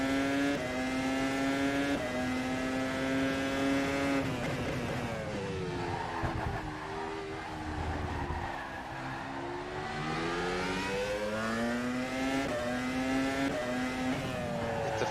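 Formula 1 car lapping Zandvoort in the rFactor racing sim, a continuous high-pitched engine whine rising and falling with gear changes and cornering, steady and loud with no talk.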